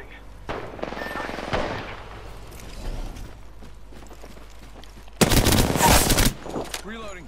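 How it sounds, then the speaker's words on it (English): Gunfire in the battle royale shooter Apex Legends: a loud, rapid automatic burst cuts in near the end, over quieter game sounds and scattered lower shots earlier, with faint voice chatter. "I'm taking fire."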